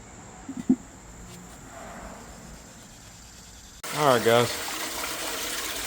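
Water gushes loudly into a hot tank used for cleaning aluminium intakes, starting abruptly partway through after a quiet stretch with a few faint knocks, then pouring steadily to the end.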